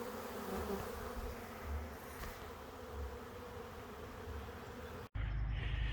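A dense, steady buzzing of a honeybee swarm fills the clip, a continuous drone close by at a swarm trap that cuts briefly near the end before resuming.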